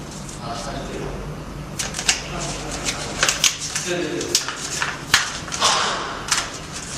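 Sublimation transfer paper is peeled off a freshly printed mug in a run of crisp, crackling rustles and small ticks, close and fairly loud, with brief soft taps mixed in.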